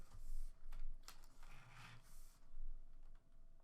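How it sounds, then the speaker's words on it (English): Keystrokes on a computer keyboard typing a school name into a design template editor, a quiet run of soft clicks with brief pauses and a low background hum. "I'm just going to start typing my new school."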